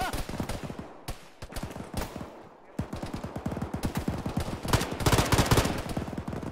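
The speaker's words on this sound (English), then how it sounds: "we're taking fire from the west now" Sustained automatic gunfire from a military video game rattles in dense, loud bursts with short gaps, rapid shots stacking close together throughout.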